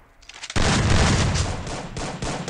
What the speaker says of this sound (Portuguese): eu escutei muito tiro perto